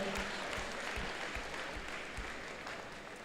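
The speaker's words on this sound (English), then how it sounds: "Let's give a round of applause to our number 8 alliance." A crowd claps steadily at a robotics competition alliance selection, a dense patter of applause that gradually fades a little toward the end, with no voices over it.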